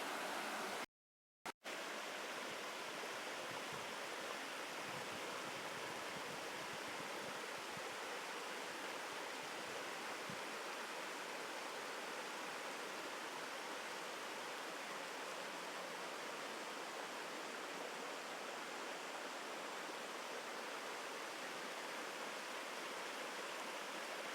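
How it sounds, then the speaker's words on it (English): Steady rushing stream water in the woods flows without pause, a dense broadband wash after a brief dropout at the start. "I'll give you a parting shot so you guys can hear the water"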